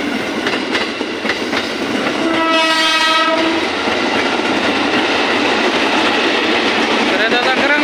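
Loud rumble and clatter of trains running along rails, including a long container freight locomotive, close by, with a brief horn blast partway through and voices under the noise.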